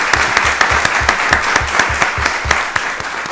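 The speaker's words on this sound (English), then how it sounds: "That deserves a round of applause right there by itself." A meeting audience at a county board of commissioners session breaks into steady, sustained applause, dense clapping filling the room at close range with no talk over it.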